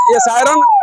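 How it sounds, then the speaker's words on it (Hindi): Emergency vehicle siren wailing in the streets of Sasaram during a chief minister's visit, a loud close electronic tone rising and falling with rapid warbling, with a voice briefly over it. "चारों तरफ से केवल और केवल सायरन की आवाज सुनाई पड़ रही है"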